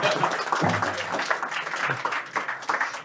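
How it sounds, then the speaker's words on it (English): An audience at a talk on innovation funding applauding, a dense close wash of many hands clapping steadily for a few seconds, with a voice faintly underneath. "big round of applause for Bruce"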